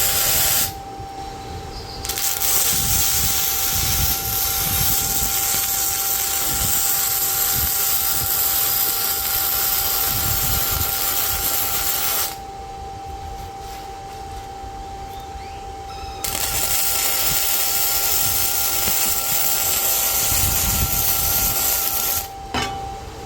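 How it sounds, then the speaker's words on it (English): Andeli MIG 135 Plus welder fusing a bolt onto a steel plate of different thickness, a loud, steady crackling hiss in long bursts broken by two short pauses, close up and without speech. "So we're going to weld this bolt to this plate here and see how it does."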